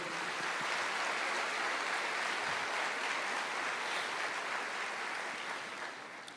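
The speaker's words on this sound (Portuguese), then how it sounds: "Você pode aplaudir o Senhor?" Broad, sustained clapping from a large church congregation, a dense wash of hands that holds steady and then begins to fade near the end.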